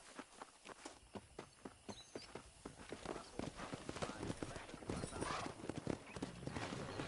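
Horse hooves in Red Dead Redemption clip-clopping in a steady walking rhythm that grows into a denser, louder gallop as several riders move off, with faint voices underneath.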